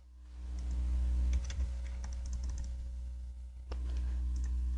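AutoCAD commands are typed on a computer keyboard, giving a quick run of close key clicks over a steady low hum.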